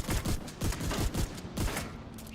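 Rapid bursts of gunfire from a sci-fi shooter video game battle against enemy turrets, loud repeated shots in quick rhythmic volleys that continue steadily across the clip with no voices.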